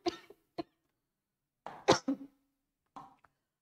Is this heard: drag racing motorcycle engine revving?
no